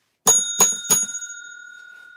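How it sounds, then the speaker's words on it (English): A hand bell struck three times in quick succession by a trivia night host, each ring bright and metallic, with the last one left to sustain and fade out slowly. "like when I hit that bell"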